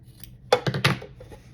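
Scissors snip through excess fabric while sewing a boxy pouch, a quick close cluster of three or four crisp cutting crunches.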